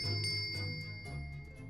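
A bell cord tugged in The Great Ace Attorney, setting off a few light tinkling rings that chime quietly over soft background tones.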